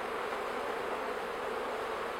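Honeybees crowd a hive frame they are packing with pollen during a spring move from a nucleus box into a full hive, giving a dense, steady, close buzz with no voices.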